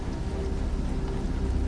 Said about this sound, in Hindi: इतनी तेज बारिश है और अंधेरा भी